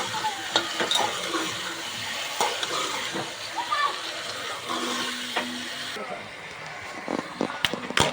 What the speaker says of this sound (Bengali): পিপে আর মাংসটা একসঙ্গেই কষাবো আমি।